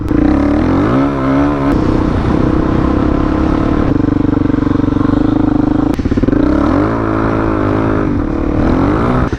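A motorcycle engine revs loud and close throughout, rising and falling in pitch as the throttle is worked, with a brief clatter near the start.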